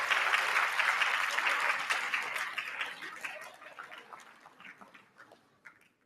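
A school assembly audience applauds loudly at first, then the clapping thins out and fades to a few scattered claps.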